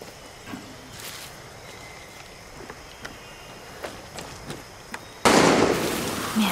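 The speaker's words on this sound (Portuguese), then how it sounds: "Merda, quem tá atirando?" Scattered distant gunshots crack one by one in the Far Cry 6 video game amid ambient background noise, then a sudden loud, sustained burst of noise erupts near the end.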